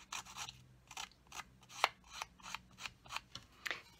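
Cut paper edges on a Halloween coffin treat box are roughed up with quick, scratchy rasping strokes, about a dozen close, soft rubs in an uneven rhythm.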